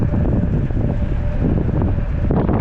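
Strong, steady wind roaring and buffeting the microphone while cycling uphill toward Kodaikanal in the hills, loud and continuous with no voices.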